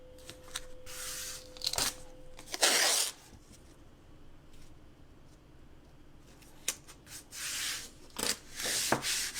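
Adhesive tape is torn and pressed down while a snow-themed sign is made, with sharp ripping bursts, one long loud tear, and scratchy rubbing close by.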